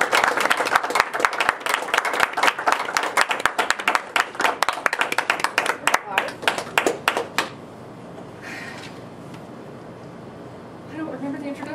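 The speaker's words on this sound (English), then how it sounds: "Let's give her a round of applause." Lively audience applause for a Toastmasters speaker, brisk overlapping claps from a small crowd for about seven seconds before cutting off into quiet room tone and a faint voice.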